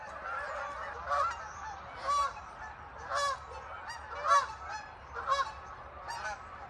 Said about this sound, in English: here comes a flock of geese.